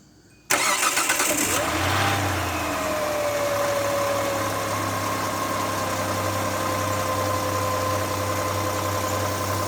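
A 2003 Hyundai Santa Fe, just back together after a new timing job, cranks briefly and fires up, then settles into a steady, close idle with a faint whine that keeps running throughout.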